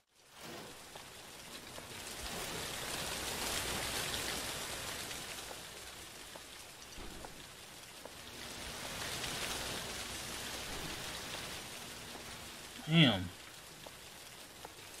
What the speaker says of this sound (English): The rain just sounds like it's going through.